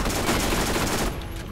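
Rapid, loud SMG fire from Borderlands rattles continuously as a dense burst that cuts off just before the end.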